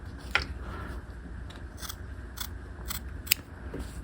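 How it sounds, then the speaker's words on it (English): Scissors trimming the under collar fabric of a half-scale jacket: a few sharp, close snips spaced irregularly over quiet room tone, with no talking. "So you'll trim your whole under collar around and your upper collar as well"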